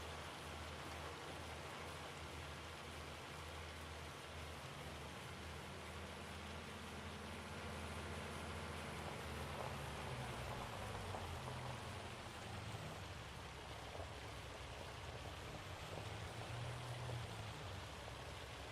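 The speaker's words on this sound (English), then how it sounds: "It's raining now, guys." Steady rain falling outdoors on farmland at planting time, a continuous dense hiss of drops that stays even and fairly faint throughout, with a low rumble underneath and no talking.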